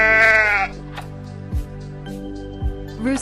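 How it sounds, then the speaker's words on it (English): A sheep gives one long, wavering bleat up close over a low musical bed, followed by quieter background sounds and the start of another call at the end. "Sheep."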